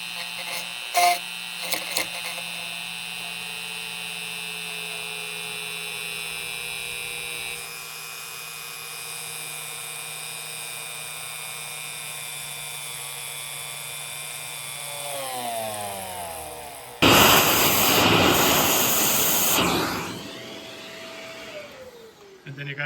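A drill bores into the keyboard frame of a MacBook Pro model A1398 with a steady, thin high-pitched whine that winds down in pitch, followed by a brief, much louder rushing burst like a small vacuum.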